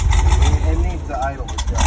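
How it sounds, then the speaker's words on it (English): A 1977 Corvette with a Weber carburetor and an unadjusted idle starts up and runs with a steady low engine rumble close by, while people talk over it. "I'll start it up for you."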